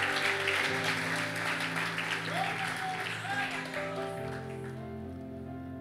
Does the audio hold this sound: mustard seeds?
no